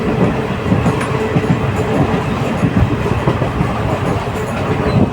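A special passenger train on the Rajgir to Tilaiya line rolls steadily along, with a continuous rumble of wheels on track and a faint clickety-clack running throughout, loud and close as if from inside a carriage.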